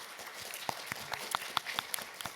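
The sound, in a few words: audience applause at a PAX East panel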